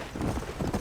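A horse gallops in the video game Red Dead Redemption, with a quick run of close hoof clip-clops over less than a second and no speech.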